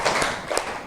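A classroom group does a rhythmic focus clap, a few quick hand claps, close and fairly loud, over a steady room background with no speech.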